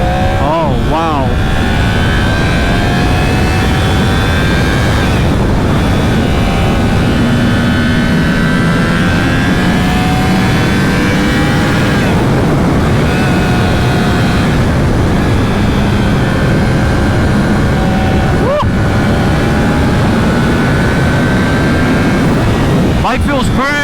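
A Yamaha R1 sport motorcycle with a cross-plane crank engine accelerates hard, its loud, continuous engine note rising through repeated climbs in pitch with brief dips at gear changes, heard close up under heavy wind noise.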